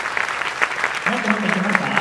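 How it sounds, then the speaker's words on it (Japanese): A packed gymnasium crowd at a marching band championship claps steadily in a bright, crackling wash, while a voice speaks over the applause in the second half. "我が先にと拍手を大きい拍手で始めてください"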